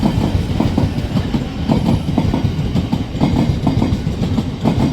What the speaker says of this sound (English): Can you hear it? This train empty.